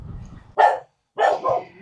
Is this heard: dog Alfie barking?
yes